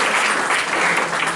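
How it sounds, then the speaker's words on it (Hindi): Loud, dense applause rises from a crowd at a ceremony for a cycling event in Korba, a continuous wash of clapping with no break, honouring Pandit ji. "पंडित जी के लिए जोरदार ताली बजाएं।"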